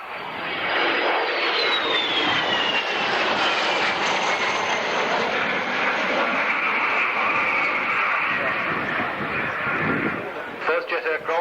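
A de Havilland Vampire jet flies past on the far side of an airshow, a sustained loud engine roar with a falling whine as it passes, while an announcer talks over it.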